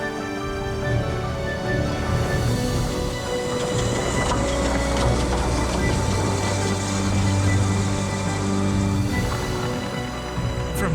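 A heritage train with over 1,000 horsepower runs at speed on wet rails, giving a steady, loud, continuous rumble with a droning engine hum that holds for the whole stretch and swells slightly near the end.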